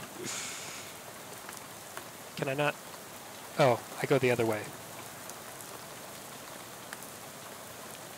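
Steady rain hiss falling throughout a scene in the video game Shadows Over Loathing, a constant soft wash beneath brief bursts of speech partway through.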